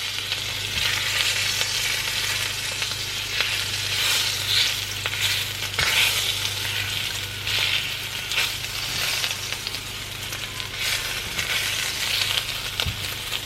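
Bacon strips frying in a pan for a scrambled egg, sausage and bacon sandwich, crisping to golden: a steady, dense sizzle and crackle runs throughout with scattered sharper pops and a low background hum, no talking.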